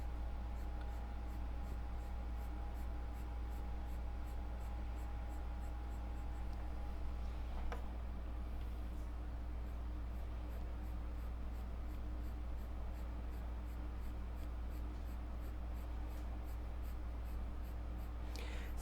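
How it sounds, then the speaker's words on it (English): A soft 6B pencil shades crisscross strokes on paper, a steady, close scratching and rubbing that continues throughout over a low hum, with no talking. "when we use a 6B, which is a very soft pencil, we're able to get very dark tones, but still we have to crisscross"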